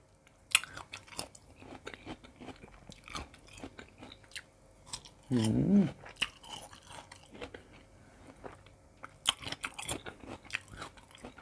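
Someone chews large, long pickled tamarind pods close to the mic, with wet crunchy bites and smacking in irregular bursts and a brief louder rustle in the middle.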